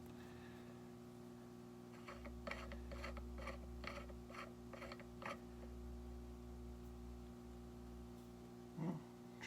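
A puller works on a part of a Banshee motor during teardown, producing a series of rhythmic metallic creaks and clicks over a steady hum, then a louder thump near the end.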